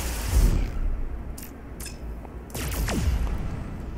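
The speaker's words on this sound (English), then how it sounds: "Got a beam laser." Beam laser in No Man's Sky fired at a tree: a few short zapping bursts with falling sweeps, moderately loud over a steady low background hum.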